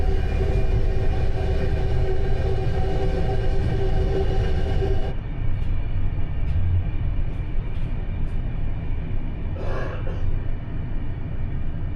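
A diesel passenger train rolls along a line from Szczecin toward Mockava, heard from inside an uncrowded carriage as a steady, loud low rumble with a few faint clicks and brief knocks, the tone shifting midway.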